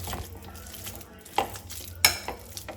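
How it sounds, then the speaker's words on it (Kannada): Cooked nendran bananas being mashed in a bowl, quiet soft squelching and scraping with a couple of sharper utensil clicks against the bowl, faint and close with no talking. "ಈ ಬಾಳೆಹಣ್ಣನ್ನು ಚೆನ್ನಾಗಿ ಸ್ಮ್ಯಾಶ್ ಮಾಡಿ."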